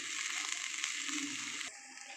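Amaranth greens fry in a pan with a soft, continuous sizzle that crackles lightly and then eases off near the end, without any speech.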